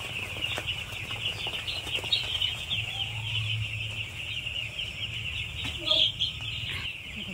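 Four-day-old poultry chicks on a farm chirp in a dense, continuous high chorus close by, with a low hum underneath and a louder burst of peeping near the end.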